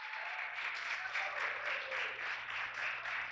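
A church congregation applauds their praise to God after a sermon point, a steady wash of many hands clapping at moderate distance that carries on throughout.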